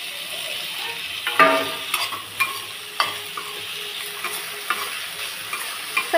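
Chopped capsicum, green chilli and tomato sauté in a pan, with a steady close sizzle broken by repeated sharp scrapes and taps of a spatula as the vegetables are stirred, and no voices.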